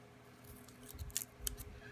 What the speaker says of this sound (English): Where's my scissors? I'm just going to cut me a sliver here.